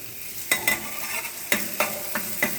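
A steady close sizzle of chopped garlic frying in a hot pan, broken by several sharp scrapes and taps of a stirring utensil spaced unevenly over a few seconds.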